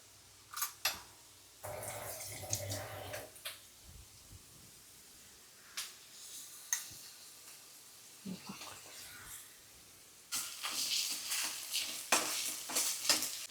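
Onions and masala paste frying in a pan, with sizzling bursts and clattering strokes of a spoon stirring, intermittent and close, louder and busier toward the end.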